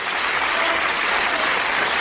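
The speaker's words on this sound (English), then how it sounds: "Give him a round of applause" A studio audience breaks into steady, loud applause, a dense, even wash of clapping with no voices over it.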